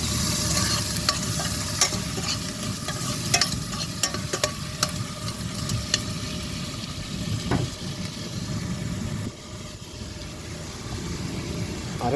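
Onions and washed corn sautéing in a pan, a steady close sizzle with scattered clicks of stirring throughout, briefly dipping quieter near the end.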